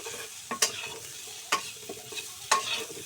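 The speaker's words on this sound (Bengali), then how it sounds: "আস্তে আস্তে জালে লাল লাল করে ভেজে নিলাম" Small potatoes fry in a pan, being turned for a curry with duck eggs, over a soft sizzle broken by three sharp stirring scrapes about a second apart, plus lighter clinks.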